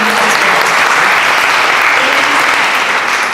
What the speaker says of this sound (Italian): Un applauso non si rifiuta mai.